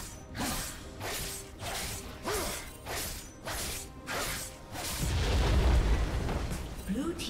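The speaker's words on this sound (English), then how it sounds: "Blue team's inhibitor has been destroyed." A League of Legends inhibitor is destroyed in a team fight, with loud whooshing ability effects, mechanical clunks and a heavy rumbling collapse building near the end, mixed with game announcer speech.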